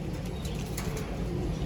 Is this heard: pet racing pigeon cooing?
yes